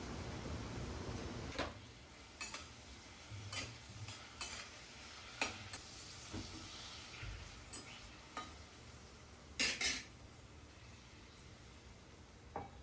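Bengali fish curry cooks quietly in a pan, with a soft, steady sizzle broken by scattered sharp clinks and taps of utensils and kitchen items.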